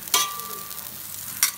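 Butter sizzling and melting in a hot pan, a steady soft hiss with two brief louder crackling bursts at the start and end, close and without talk.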